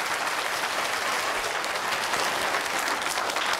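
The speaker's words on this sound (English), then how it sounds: "Shall we give Grace a clap?" Children applauding a pupil in a primary school assembly, a dense, even burst of many small hands clapping together, close and sustained throughout with no voices.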